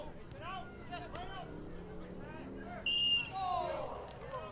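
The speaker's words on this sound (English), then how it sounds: "A whistle been blown." At a high school soccer match, Tartan vs. Mahtomedi, a referee's whistle gives one short, sharp blast while a commentator keeps talking over the crowd noise.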